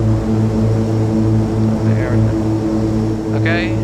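A simulated propeller aircraft engine runs at climb power around 3,000 RPM in a flight simulator game, a steady droning hum with regular pulsing throb, loud and continuous, with brief faint blips over it.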